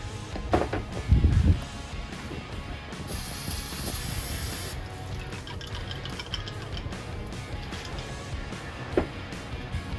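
Cleaner sprays onto a Honda power steering pump in one loud hissing burst of about two seconds, surrounded by quieter clinks and handling noises.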